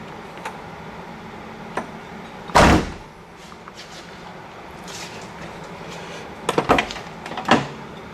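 A 1970 Pontiac Trans Am clone, an F-body with large doors and newly installed weather stripping, has a door shut with one solid thud, followed by scattered light clicks and knocks nearby, without talking.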